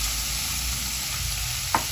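Boneless chicken pieces frying in a pan with garlic give a loud, steady, close sizzle throughout, with one brief stirring clink near the end and no talking.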